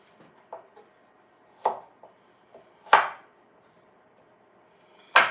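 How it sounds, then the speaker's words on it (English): Carrots, potatoes and celery being chopped into chunks for a stew: five or six separate knife strikes on a cutting board, sharp and close, spaced irregularly with quiet gaps between them. "I don't want the vegetables too chopped up"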